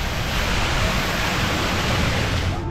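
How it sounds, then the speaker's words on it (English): A big waterfall at Typhoon Lagoon water park roars loudly as a dense, steady rush of falling water with no breaks and no talking, close to the listener. "Big waterfall."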